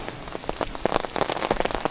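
Heavy rain on a mountain trail near Dabajian Mountain, dense close patter of drops striking surfaces in a brief steady burst, no voices.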